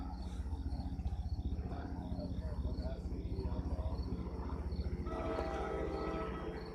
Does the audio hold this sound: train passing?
yes